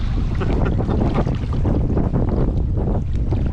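Strong wind blows across open sea around a fishing kayak off the UK coast, a loud, steady rushing roar with buffeting gusts against the microphone and water sloshing underneath.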